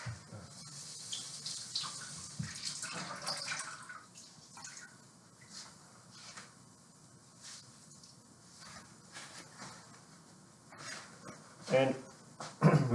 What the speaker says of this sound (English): we put some water on the piece of cloth